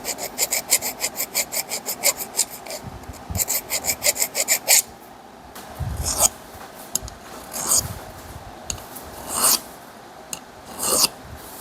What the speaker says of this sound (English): Just start filing, sanding, and smoothing it up.